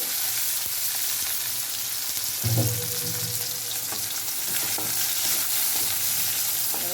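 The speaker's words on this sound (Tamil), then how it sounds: "வெங்காயம் தக்காளி எல்லாத்தையும் ஒன்றா போட்டுக்கலாம்" Onion and tomato hit hot oil together while making a bitter gourd gravy, producing a steady close sizzle with stirring scrapes and a brief louder burst as the vegetables go in, with no voices.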